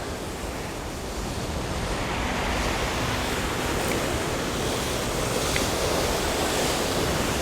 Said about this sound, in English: the wave comes in, breaks right on the jetty